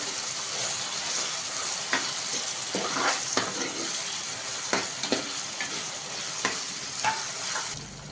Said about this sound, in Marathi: बघा आता टमॅटो घालून थोडं आणि याला पण चांगला मऊ शिजवून घेऊ.